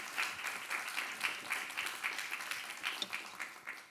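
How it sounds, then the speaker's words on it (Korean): A small audience claps after a haegeum performance at a recital, a steady patter of many hands with slight rhythmic surges, moderately loud and unbroken for the whole stretch. "박수 한 번만 주세요"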